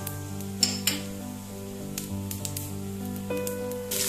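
Cardamom pods, cloves, cinnamon and cumin seeds sizzle in hot oil with a steady frying hiss, broken by a few clinks of a utensil stirring the pan, under a low background hum.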